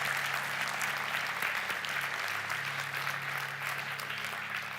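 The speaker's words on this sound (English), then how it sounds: "big round of applause for all of our single parents in the house today" A church congregation gives a sustained round of applause at a Christmas Sunday service, dense steady clapping filling the room for several seconds with a low hum underneath.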